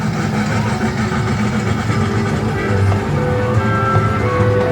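The Casey Jr. kiddie train ride at Disneyland gives a loud, steady engine rumble with a low idling drone that runs the whole time, close by and with no talk over it.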